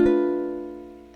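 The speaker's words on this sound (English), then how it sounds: "This is a B half diminished." One B half-diminished chord is strummed on a ukulele, sounding close and bright, then sustaining and slowly fading for about a second, with no voices.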